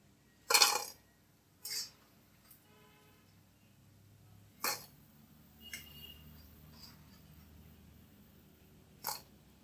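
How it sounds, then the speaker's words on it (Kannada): Pieces of deep-fried gobi (cauliflower) drop into a perforated metal strainer, giving a handful of sharp, bright metallic clinks spaced irregularly over several seconds, close and clear against a quiet kitchen background. "ತೂತ್ ಬಟ್ಲಿಗೆ ತೆಗೆದು ಹಾಕಿದ್ರೆ ಈ ರೀತಿ ಶಬ್ದ ಬರುತ್ತೆ"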